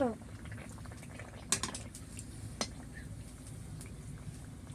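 Bottle gourd, semolina and flour pitha fry in hot oil in a village kitchen, giving a steady close bubbling sizzle with a few sharp pops and crackles.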